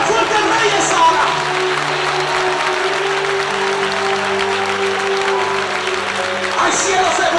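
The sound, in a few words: congregation applauding loudly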